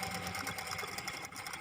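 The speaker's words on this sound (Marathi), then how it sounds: "कमरेच्या साईडनं पण शिलाई मारून घ्यायची आहे." A sewing machine hums and stitches continuously as it runs along the waist side of a blouse, a close, steady whirring drone with no pauses or speech.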